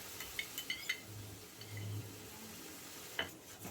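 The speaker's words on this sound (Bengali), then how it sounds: "এবারে মশলাটাকে আমি ভালোভাবে কষিয়ে নিচ্ছি।" A spoon scraping and clinking in a pan while tomato paste masala fries for a fish curry, with a few sharp metallic taps and a soft low sizzle between them, faint and close.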